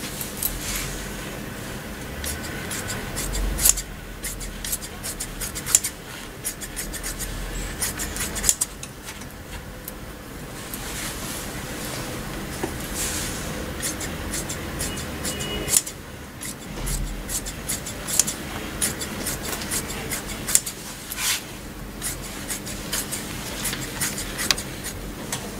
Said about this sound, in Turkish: Şu tele fazlalıklarını kesip makasla tıraşlayıp sonra katlama yapacağız.